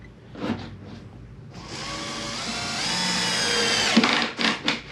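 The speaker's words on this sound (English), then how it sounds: "So we're gonna go drive that in. I'm gonna turn down my drill just a little bit" A power drill whirs up and drives a screw to mount an undermount drawer slide in one sustained burst, its pitch rising slightly, with a few short handling clicks before and after.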